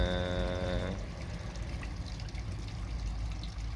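Water trickles steadily through a homemade garden pond filter, a continuous close splashing flow; a brief droning hum sits over it for the first second before the trickle carries on alone.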